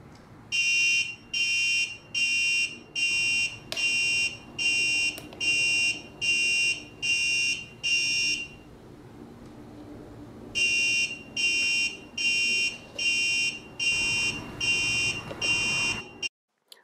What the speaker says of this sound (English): I also had the alarm go off